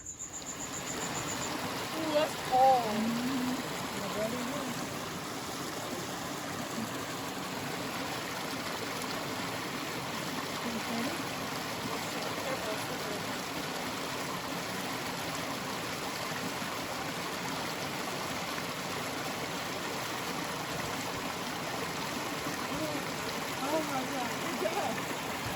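A small creek flows with a constant soft rush of water, steady throughout, with faint insect chirps in the background.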